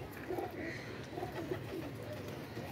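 Soft, low pigeon coos repeat over a constant rushing background noise, with muffled fluttering and murmuring mixed in.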